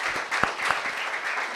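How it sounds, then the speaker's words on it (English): Applause from an audience at an AWS Hub info session: a short, dense patter of many hands clapping together, with a couple of sharper claps standing out in the steady wash. "give them all a round of applause"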